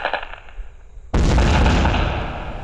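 A Deepavali firecracker goes off with a single loud, sharp blast after a quiet fizzing lead-in, the boom decaying into a long rumbling tail.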